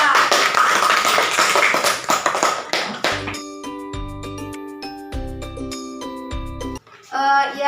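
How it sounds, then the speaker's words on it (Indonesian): A classroom applauds a student group with a dense burst of clapping that lasts about three seconds, then gives way to clear, ringing chime-like tones. "Tepuk tangan buat kelompok 2"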